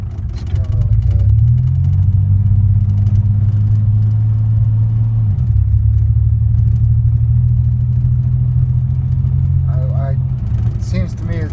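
Chevrolet S10 pickup driving after a test drive, its engine a loud, steady low rumble that rises, shifts down midway and holds, with faint higher squeaks near the end.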